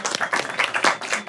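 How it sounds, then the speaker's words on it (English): A brief burst of audience applause for a speaker at a talk on healthcare costs, a short dense patter of clapping hands, fairly close and without voices. "Let's give him a round of applause."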